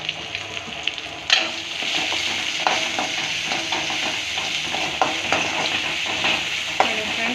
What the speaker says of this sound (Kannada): ಕರಿಬೇವು, ಈರುಳ್ಳಿ ಹಾಕ್ಕೊಳ್ಳಿ ಒಗ್ಗರಣೆಗೆ.